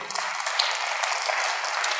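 A crowd claps at a stage event, a dense, even burst of applause that starts at once, holds steady and stops abruptly.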